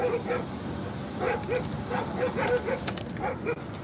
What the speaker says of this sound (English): The neighbor's dog hears their dog.